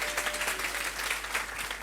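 Crowd at a high school trophy contest applauding members of the Futur Team association, a steady, dense clapping with a low hum underneath, moderately distant.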